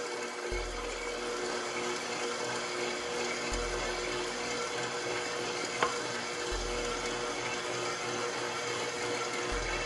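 An electric mixer mixing dough for conchas whirs steadily, its motor droning with a low hum that cuts in and out in long stretches, no talking.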